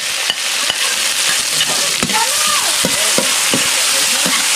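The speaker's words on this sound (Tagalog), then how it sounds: "Isabay na natin yung bawang tsaka sibuyas." Ginger, garlic and onion sizzle in a hot pan as they sauté, a loud steady hiss of frying broken by clicks and scrapes of stirring, with no talk.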